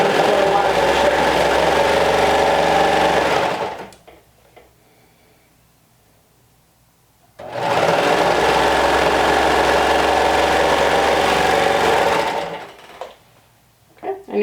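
A sewing machine runs in two long, steady bursts while top stitching a sleeve onto a shirt, close and loud, with a quiet pause between runs and a little faint handling noise at the end.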